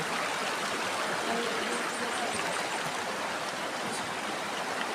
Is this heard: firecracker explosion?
no